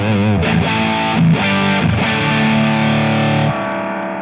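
Heavily effected electric guitar chords through a reverb pedal, distorted and washed in reverb, ringing out loud and sustained with a few restrums before fading.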